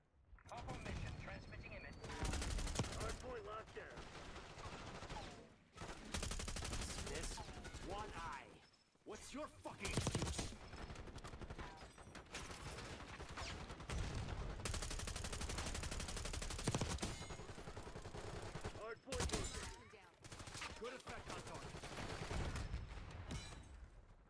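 Suppressed GPR 91 assault rifle fire in Black Ops 6 multiplayer, dense repeated bursts and sustained automatic volleys with brief pauses, loud and continuous, mixed with game effects and occasional talk.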